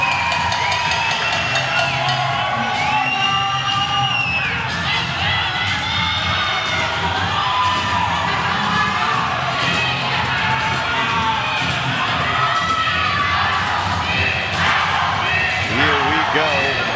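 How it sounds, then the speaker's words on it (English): Crowd cheering at a Dallas swimming competition, loud continuous roar with whoops and shouts filling the arena, rising and falling in waves, while an announcer talks over it. "What an atmosphere for them to swim in front of a crowd like this"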